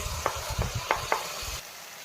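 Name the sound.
ginger, garlic and tomato paste sizzling in hot pan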